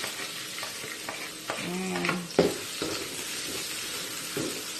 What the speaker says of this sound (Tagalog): So, medyo i-brown nyo lang po yung garlic. And then, add the onion.